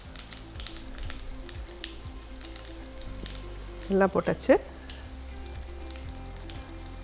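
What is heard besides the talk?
mustard seeds and lentils sizzling in hot oil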